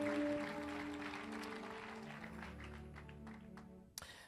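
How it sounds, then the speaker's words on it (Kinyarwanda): An audience at a church gathering applauds warmly, the clapping starting loud and then slowly fading over a few seconds, followed by a single sharp tap near the end. "mwongere mubakunde mubakomera amashyi menshi"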